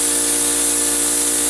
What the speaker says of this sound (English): spraying as evenly as possible